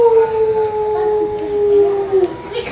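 A human voice imitates a long wolf howl, one sustained wavering tone held for a few seconds, close and fairly loud.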